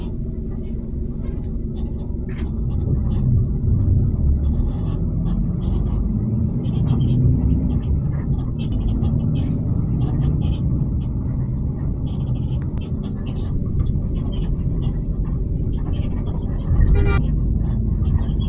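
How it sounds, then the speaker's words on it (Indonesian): Steady road traffic on a workday near a police post in Cilimus gives a continuous low engine rumble, with passing vehicles swelling briefly, under a person speaking. "Lalu lintas begitu lancar karena hari kerja."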